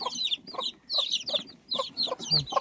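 A country hen clucking up close, a series of short repeated clucks in uneven bursts with brief pauses between, clear and moderately loud with no talk.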